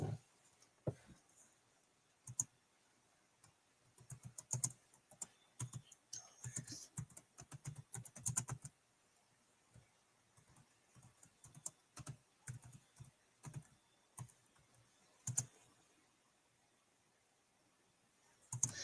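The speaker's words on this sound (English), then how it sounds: "just typing it in there" Someone types on a computer keyboard, producing quiet bursts of clicking keystrokes in uneven runs with short pauses between them.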